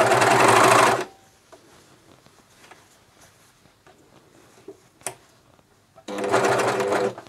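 A Juki MCS1500 coverstitch machine sews a neckband in two loud, steady bursts, about a second at the start and again near the end, with quiet handling of the fabric in between.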